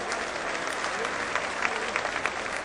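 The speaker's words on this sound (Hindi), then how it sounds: "जोरदार तालियों के साथ उनका स्वागत करिए" An audience at a political meeting claps to welcome a speaker, a dense, even wash of applause heard from within the crowd that keeps a steady level throughout, with a few sharper claps near the end and murmuring voices beneath.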